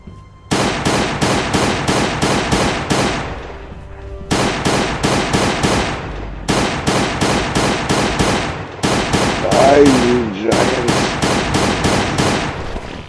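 Pistol gunfire in the survival video game Last Day on Earth, heard as four loud bursts of rapid, evenly spaced shots separated by short pauses, close and punchy with no talking.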